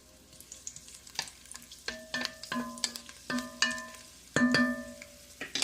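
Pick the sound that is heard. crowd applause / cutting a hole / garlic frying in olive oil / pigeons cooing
garlic frying in olive oil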